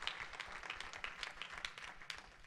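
Church congregation giving a round of applause, scattered close claps and bursts forming a brisk uneven patter at low volume.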